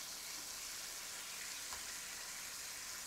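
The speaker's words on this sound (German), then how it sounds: "Der Speck ist schon schön von einer Seite angebraten." Bacon sizzles in a frying pan as a steady, quiet, crackling hiss of fat, with no one talking.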